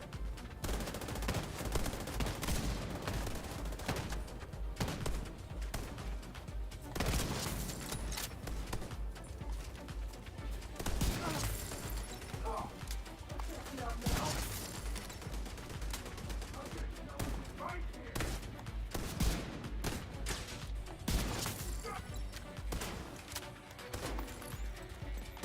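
Rifle fire from The Division 2 video game sounds as rapid, repeated shots through the whole stretch. Sharp cracks stand out from a busy, fairly faint combat background.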